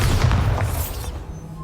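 A Bombarda spell blast in the video game Hogwarts Legacy: a deep booming explosion with a rumbling burst that quickly fades into a quieter tail, loud and close.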